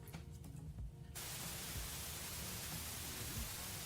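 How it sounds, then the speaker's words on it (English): A baby sleep sound machine switches on partway through and plays a steady, even hiss of white noise that holds constant after a quieter opening. "Make sure there's the option for white noise."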